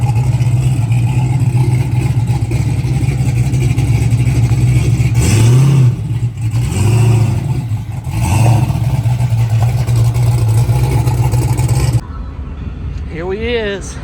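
A turbocharged Turbo LT truck with its camber adjustment maxed out drives up to be loaded, the engine droning loudly and surging in several revs before dropping off near the end.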